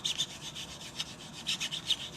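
Sanding a silver coin ring smooth, a soft scratchy rubbing in short repeated strokes, fairly faint and close, with no voices.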